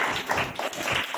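Congregation at a Hindi Christian church service clapping loudly together, a dense burst of many hands sustained for about a second.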